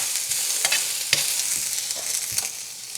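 Onion and garlic fry in a carbon steel pan with a loud, continuous sizzle, broken by a few scraping strokes of a spatula stirring through them.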